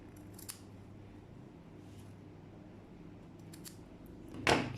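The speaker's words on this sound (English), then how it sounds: "you can just snip it like that." A single crisp scissor snip cuts through fabric near the end while a trouser side pocket is sewn, following a quiet stretch with only faint handling noise.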